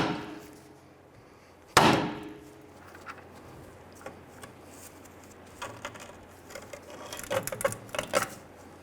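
A single sharp metallic hammer strike on a steering knuckle of a 1994-2004 Ford Mustang, to free the tie rod end, rings out once near the start, followed by faint scattered clinks and tool handling.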